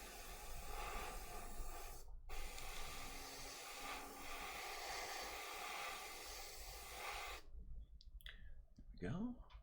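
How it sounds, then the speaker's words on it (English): Compressor for airbrushing a Stompa model hisses steadily and loudly on a workbench for several seconds, then cuts off abruptly, leaving quieter room noise with a brief squeak near the end. "You don't like that compressor, huh? Definitely seems a bit sketchy."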